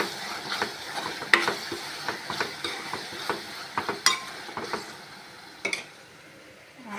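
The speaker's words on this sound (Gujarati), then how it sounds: "હવે ટમેટા નાખશું." Tomatoes tipped into a pan of frying onions with spices and stirred, giving a steady close sizzle broken by repeated spoon scrapes and clicks against the pan, with no talking.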